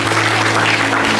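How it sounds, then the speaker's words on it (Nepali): A church congregation claps hands together in praise during a worship service, a dense continuous burst of applause over a low steady hum. "ताली बजाएर प्रभुलाई धन्यवाद दिनुहोस्।"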